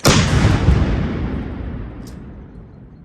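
One powerful Melara howitzer shot cracks at close range, followed by a deep rolling echo that gradually dies away.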